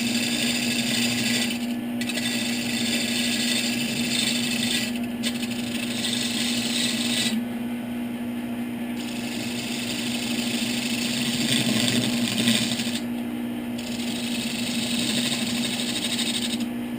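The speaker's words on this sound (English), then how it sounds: "I'm just using regular spindle gouge." A wood lathe spinning a workpiece while a regular spindle gouge cuts lightly, producing a continuous steady hum with a raspy scraping texture that rises and falls over the whole stretch; no talking.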